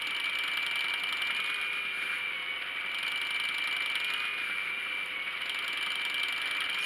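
A spinning wheel plying yarn rattles with a steady, fast mechanical clatter and a constant whir, close and continuous throughout, with no talk over it.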